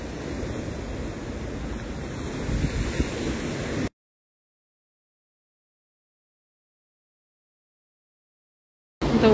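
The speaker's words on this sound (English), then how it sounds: "The waves can be here definitely high." Ocean surf rolls in as a steady broadband wash mixed with wind buffeting on the microphone, cut off by a long stretch of silence before the noise briefly returns.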